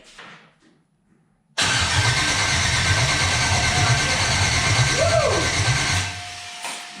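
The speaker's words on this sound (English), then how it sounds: "It cranks over from the factory LS ignition." A pickup truck's LS engine cranks over on its factory ignition, a loud steady churning starter rhythm that begins abruptly after near silence and runs for several seconds before easing off, with no voices.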